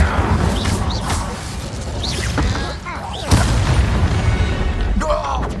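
Spells cast in Hogwarts Legacy: a dense run of magical bursts, booms and crackling impacts with rising whooshes, loud and continuous over a rumbling game backdrop.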